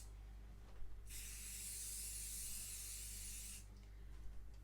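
A single steady hiss of cooking oil spray lasts about two and a half seconds as it coats silicone muffin molds. It is close and fairly quiet, and no one talks.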